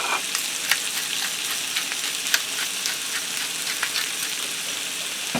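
Sausage, potatoes and vegetables fry in a skillet with a continuous hiss and crackle, broken by scattered pops and the occasional scrape of stirring.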